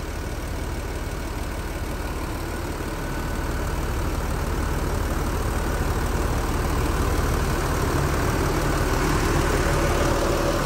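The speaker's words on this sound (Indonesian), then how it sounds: "seperti inilah mesin Mercy 1626 kalau masih baru" A Mercedes 1626 bus diesel engine, new, idles steadily nearby, a low, even rumble with a faint knocking texture that holds constant throughout.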